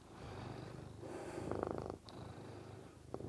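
A pet cat purrs steadily up close, a soft continuous rumble with gentle rhythmic pulses and a brief sniff-like sound partway through, with no voices over it.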